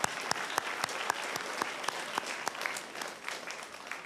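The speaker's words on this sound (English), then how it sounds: "Can you give yourself a round of applause for that?" A school assembly crowd applauds steadily with sharp individual claps standing out, moderately loud and even throughout, without voices on top.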